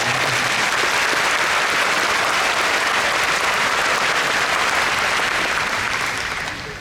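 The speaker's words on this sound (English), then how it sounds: "can we get one more round of applause for the Esprit de Corps and the band?" Sustained applause from a large audience at a 2023 high school graduation ceremony, a dense steady wash of clapping lasting several seconds and tapering slightly at the end, with no talk over it.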